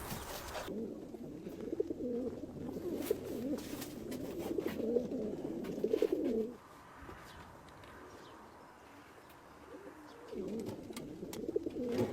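Homing pigeons cooing in soft, repeated burbling calls close by, steady for several seconds, then a quieter stretch before the cooing returns near the end.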